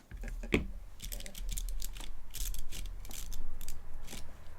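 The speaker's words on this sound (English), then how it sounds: "Clickety-clack, clickety-clack. Sounds pretty good, actually." Keystrokes rattle on a freshly built Let's Split v2 split ortho mechanical keyboard, a quick run of crisp, close clicks and clacks with no speech.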